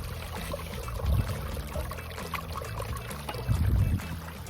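Water runs and trickles steadily through a gold prospecting sluice carrying material and rocks, a continuous nearby splashing flow with a couple of heavier surges.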